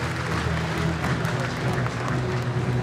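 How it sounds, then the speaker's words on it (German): Steady applause from a crowd at an award ceremony fills the whole stretch, dense and continuous with no pauses, at moderate loudness. "wir brauchen einen riesengroßen Applaus natürlich"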